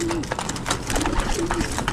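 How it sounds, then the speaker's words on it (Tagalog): Pigeons coo softly in short repeated calls, close by in a loft, amid a busy background of rustling, shuffling and chatter. "ayan pasok na yung ating mga ibon"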